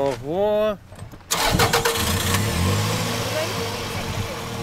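An electric generator engine cranks and catches after a brief voice, then settles into a steady close running drone.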